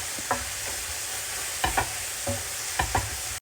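A fish and tomato mixture for thiep being stirred in a pan, with a steady sizzle and a few clustered spoon scrapes and knocks against the pan at irregular intervals.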